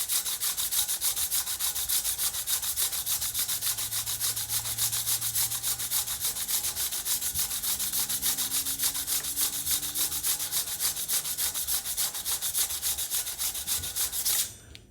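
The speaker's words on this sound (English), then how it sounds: "and sand it down just a little bit to get bring that matte finish back." A mechanical disc brake rotor is sanded to a matte finish, giving a continuous close scratchy rubbing with a steady back-and-forth texture that ends abruptly.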